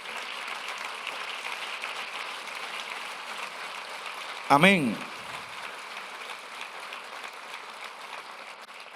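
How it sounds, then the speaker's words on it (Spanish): Church congregation applauding during a Spanish-language sermon, a steady mass of clapping that fills the whole stretch, with a brief louder burst of a voice speaking midway. "Dale un aplauso al Señor."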